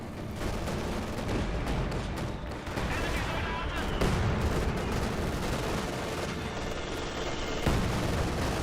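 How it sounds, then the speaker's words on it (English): Heavy .50 cal machine gun fire in Company of Heroes 2, a dense, steady wash of battlefield gunfire with booming impacts that runs the whole stretch, with a commentator's voice over it. "50 cal suppressing these squads"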